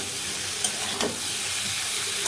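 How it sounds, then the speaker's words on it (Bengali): Cabbage curry sizzling and being stirred in a frying pan as water goes in, a steady close hiss with a couple of brief clatters, no voices. "এই যে কপির তরকারি আমার কষানো হয়েছে এখানে জলটা দিয়ে দিব"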